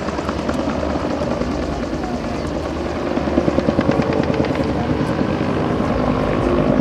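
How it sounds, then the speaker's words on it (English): Bell UH-1 Huey helicopter at an air show Vietnam battle reenactment, its rotor beating out a loud rhythmic thwack that swells as the aircraft draws nearer, under a constant turbine roar with some wind buffeting. "The unmistakable sound of the thwack, thwack, thwack of that rotor belongs to this helicopter alone."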